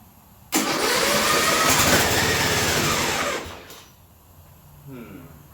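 A John Deere mud mower's engine starts and runs loud and close with the throttle opened up, holding a rough, buzzing roar for about three seconds before dropping back toward idle, with a voice faint near the end.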